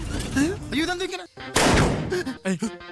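A single loud, sharp gunshot from the film Aadu 2 bursts out midway, framed by excited voices talking before and after it.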